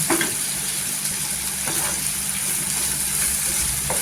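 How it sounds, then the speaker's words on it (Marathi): Dried Bombay duck fish frying in oil with a pinch of red chili powder, a steady close sizzle with faint stirring scrapes running throughout, no voices. "इथे चिमूटभर आहे ना लाल तिखट टाकायचं, आणि छान असं तेलावर परतून घ्यायचं."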